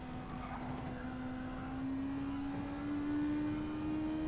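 A Toyota FT1 race car in a GT3 championship racing game holds a steady engine note that rises gradually in pitch, loud and continuous throughout with no talk over it.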